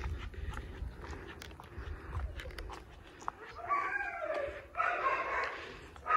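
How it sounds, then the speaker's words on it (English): Dogs bark in short bursts at a moderate distance, several overlapping yaps, with outdoor ambience and rustling in the background. "You guys can hear the dogs."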